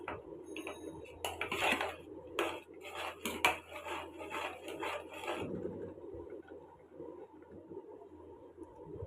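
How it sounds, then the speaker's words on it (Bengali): Payesh with milk powder being stirred in a pot, a quick series of metallic spoon clinks and scrapes against the pot that give way to a softer simmering bubble, close up. "গুঁড়ো দুধ দিয়ে একটু ভালো করে নাড়িয়ে নেব যাতে মিশে যায়"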